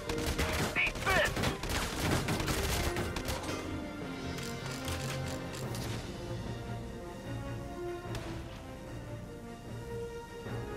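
Enemy gunfire in Valkyria Chronicles 4: a dense burst of rapid shots fills the first few seconds, then eases into a lower, sparser rumble of firing under a musical score.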